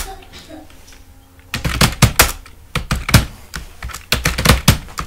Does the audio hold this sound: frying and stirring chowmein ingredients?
no